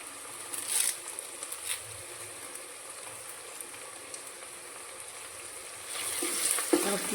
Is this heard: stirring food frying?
yes